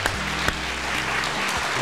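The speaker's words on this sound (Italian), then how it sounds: "Quindi di nuovo un applauso al nostro Andrea." Studio audience at a 1980 local television station applauding a director, a soft continuous patter of clapping over a low steady electrical hum.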